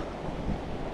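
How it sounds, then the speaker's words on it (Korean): Ocean waves off Ulleungdo island during a fishing trip: a steady, broadband wash of surf mixed with wind buffeting, continuous and fairly close, with no talking. "파도가 제법 있네."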